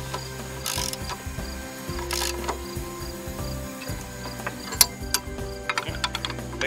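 A bolt and nut are tightened on the blade of a BCS tractor mower with a ratchet wrench: close, repeated ratcheting clicks in short bursts, with brief pauses between strokes and no talk.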